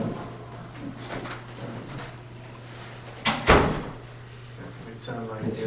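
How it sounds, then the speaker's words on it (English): A door being shut indoors: a single fairly loud thump midway, with a faint hum and some quiet voices around it. "Let's shut that door so we don't get any background noise."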